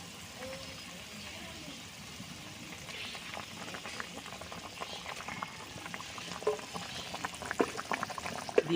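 Egg curry gravy bubbling at a steady boil in a pot, a dense, continuous simmer that grows slightly busier toward the end, with faint stirring clicks.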